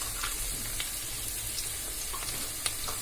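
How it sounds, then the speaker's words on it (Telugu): Onions with turmeric, chili powder, garam masala and biryani masala fry in a pan for chicken pakoda dum biryani, giving a soft, steady sizzle with faint scattered crackles and pops. "ఇప్పుడు దీన్ని మంచిగా వేయించుకోవాలి."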